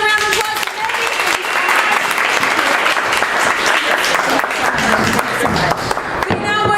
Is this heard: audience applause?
yes